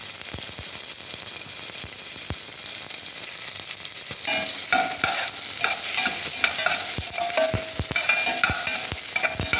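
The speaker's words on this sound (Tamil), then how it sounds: "பெரிய வெங்காயம் தான் போடுறேன்" A large onion fries in a pan, giving a continuous close sizzle with scattered spoon scrapes that grow busier and denser partway through.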